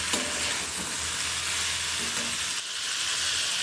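Chicken dish frying in a pan with very little oil, stirred with a steady broadband sizzle and soft scraping throughout, close and continuous with no voices.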